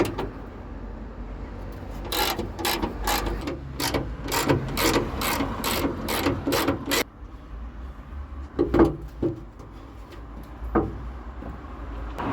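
A socket ratchet clicks in quick bursts on the bumper bolts of a 1975 Vauxhall Viva, a dense run of close, sharp pawl clicks followed by a quieter pause and a few scattered clicks.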